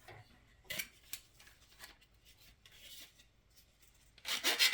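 Plastic trim pieces being cut off a model car kit sprue, quiet close snips and scraping rubs in short irregular bursts, ending in a louder rasping scrape.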